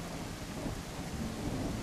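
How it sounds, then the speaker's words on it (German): Steady heavy rain and a low rolling rumble of thunder in the video game The Isle, a dense, continuous wash of noise without pauses or talking. "Vielleicht haben wir da mal kurz Ruhe von dem Regen."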